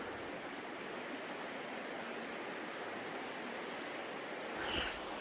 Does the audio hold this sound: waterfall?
yes